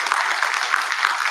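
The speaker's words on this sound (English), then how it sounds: "let's applaud this talk again once more" Audience clapping after a keynote talk at a conference's inaugural ceremony, a dense, even burst of many hands applauding in a hall, brief and steady with no talk.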